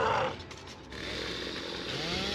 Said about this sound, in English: I was trying to do the chainsaw.